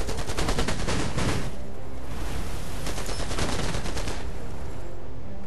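Sustained gunfire battering a vehicle in the strategy game Anno 2070, dense rapid volleys of automatic fire that rise and fall in loud bursts throughout, with no talking.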